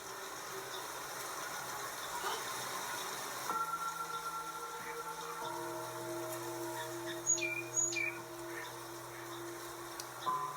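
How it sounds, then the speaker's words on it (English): Birds chirp outdoors in brief, scattered high calls, with a pair of sharp notes standing out near the end, over a steady background hum and drone. "The birds are out!"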